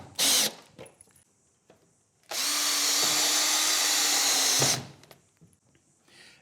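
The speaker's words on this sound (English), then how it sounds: "Got the sheet on, now we'll screw this in place." A cordless drill drives a screw into a GIB plasterboard sheet in a roof cavity: a brief whir, then a steady high-pitched whine lasting about two seconds, with small clicks and handling noises before and after.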